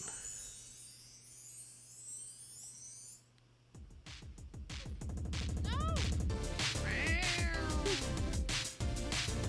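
A cartoon cat in the video game Super Crush K.O. gives several bright, rising meows over loud, busy game music and crashing effects, following a quieter stretch with a steady tone.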